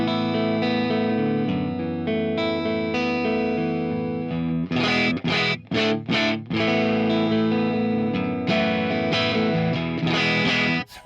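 Electric guitar played clean on the neck pickup, run direct through a Headfirst DynIR cabinet impulse, sustained ringing chords followed by a few quick choppy strums and a final held chord, close and full with no talking.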